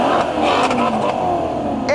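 An Italian Gran Turismo sports car engine revs up close and loud, its pitch climbing steadily through a sustained rising roar over about two seconds.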